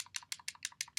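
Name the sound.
clicking while playing a computer game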